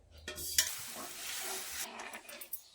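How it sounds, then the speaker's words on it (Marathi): Oil heating in a kadai gives a close sizzle, with a sharp metallic clink early on and a few lighter knocks of the pan as it crackles on. "कढई गरम करायला ठेवली आणि यामध्ये ना तेल घालून घेणार आहे"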